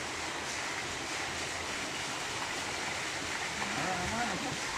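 Stream water flowing at a village water supply in the hills, a steady rushing wash of moving water close by, with a voice speaking briefly over it near the end.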